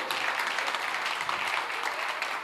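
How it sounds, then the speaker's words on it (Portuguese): A church congregation applauds during a Sunday service, a dense, steady wash of clapping that fills the room throughout, with no talking over it. "aplauda ao Senhor"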